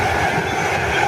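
A Virgin train passes at Milton Keynes Central, a loud, continuous rushing roar of rail noise close by with no break.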